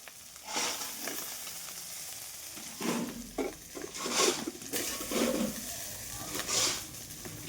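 Fish roe and koyta fish fry with browned onions in a pan, a steady close sizzle broken by bursts of stirring and scraping, with no voices.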